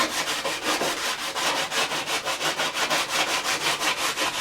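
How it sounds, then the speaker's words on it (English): Steady back-and-forth sanding on wood, with rhythmic rasping strokes repeating evenly at close range and no voices. "the sanding is done."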